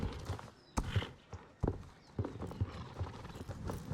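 Horse hooves clip-clopping at a festival, a steady walking rhythm of close hoof strikes on a hard surface, with crowd noise and a faint voice underneath.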